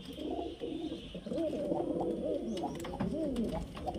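Soft, repeated cooing of Giribaz high-flyer pigeons close by, a series of low throaty calls over quiet background noise.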